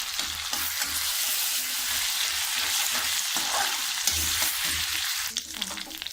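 Garlic-ginger paste sizzles and crackles steadily in a hot pan, frying into light golden brown, with occasional stirring scrapes over a continuous hiss that stays loud and close throughout.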